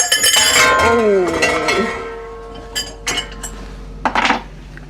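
A wok clatters and clanks onto a stove burner with ringing metallic knocks, followed by a few lighter clinks while a person talks.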